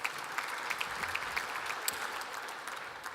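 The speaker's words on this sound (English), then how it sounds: "a round of applause for the Honourable Jaclyn Symes" An audience at a Melbourne agriculture conference plenary claps in steady, dense applause, with a few sharper claps standing out from the wash.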